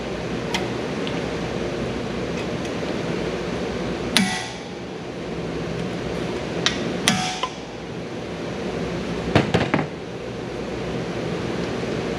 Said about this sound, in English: Now I'll just use my impact screw remover.